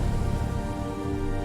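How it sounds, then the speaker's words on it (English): Rain falls steadily in an animated scene, a dense even hiss at moderate loudness with no pauses, alone without voices. "Rain starts"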